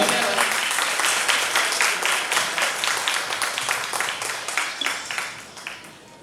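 An audience breaks into sustained, dense clapping at a stage program, loud and steady and then gradually thinning toward the end.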